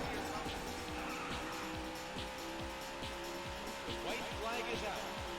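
Engine roar and repeated tire squeals from cars in an arcade racing game, a steady loud drone with rhythmic sweeping skids about every half second throughout, with no talking.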